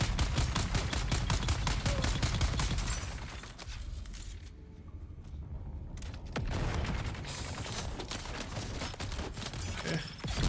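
Heavy enemy gunfire in the Dune Awakening video game: rapid, loud bursts of repeated shots that break off into a brief lull, then resume in dense volleys.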